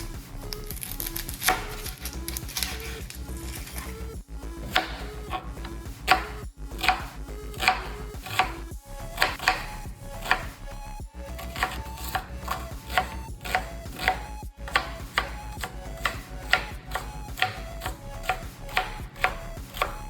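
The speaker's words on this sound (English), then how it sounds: "We're going to be dicing 1 medium onion for this recipe." A knife dices a medium onion on a cutting board for a meat sauce, giving quick, steady chops in close, crisp strikes over soft background music.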